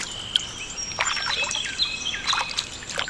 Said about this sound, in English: Yeah, listen to those birds.